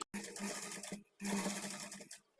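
A sewing machine stitches a blouse hemming strip in two steady runs of whirring stitches, each lasting about a second, separated by a short pause, close and fairly loud.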